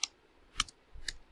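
Two or three quiet, crisp key clicks on a computer keyboard, sparse and close, with near silence between them.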